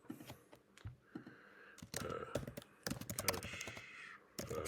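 Rapid keystrokes on a computer keyboard, close and clear, come in irregular bursts with brief pauses between words.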